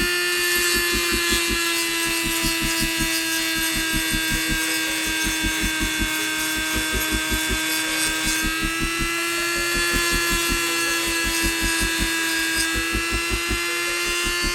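A loud, steady high-pitched whine of a power tool sanding a plastic kit, running continuously, with a rapid rhythmic buzzing pulse underneath throughout.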